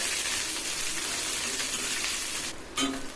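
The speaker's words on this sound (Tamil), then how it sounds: "சின்ன வெங்காயம் ஒரு நாலு சேர்த்துக்கிறேங்க கறிவேப்பிலை சேர்த்துக்கோங்க நல்லா விதைக்கிக்கோங்க" Shallots and curry leaves sauté in hot oil for a South Indian lunch dish, a steady moderate sizzle with soft stirring and a brief dip near the end.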